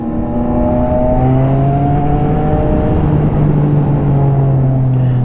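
A 2021 Yamaha MT-09 motorcycle with an aftermarket exhaust holds a loud, close, continuous engine note that climbs slightly in pitch as it revs, with no talk.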